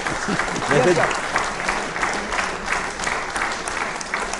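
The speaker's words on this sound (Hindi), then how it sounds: "तालियां तो बजती रहनी चाहिए। तालियां।" Audience applause on a quiz show about the Constitution of India, dense continuous clapping at even loudness throughout, with voices talking faintly underneath.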